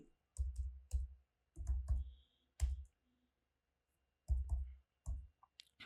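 Code is typed on a computer keyboard in short bursts of close, crisp key clicks with gaps of silence between the clusters, and no one speaks.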